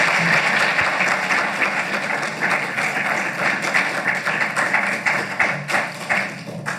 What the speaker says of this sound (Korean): 귀한 말씀으로 우리에게 도전해 주신 우리 이태호 목사님께 박수